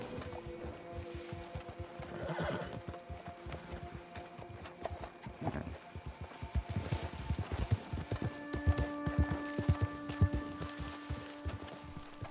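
Horse hooves clip-clopping in a video game, a steady plodding rhythm of moderate, close footfalls with faint tonal game sounds underneath, no talking.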